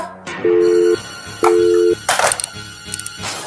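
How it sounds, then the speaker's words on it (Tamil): Telephone tone after a call is cut off: two long, steady beeps in a row, close and clear, followed by brief handling clatter and scattered background noise. "போன் கட் ஆயிடுச்சு"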